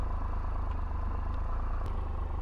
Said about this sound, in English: Revs. Nice noisy bike.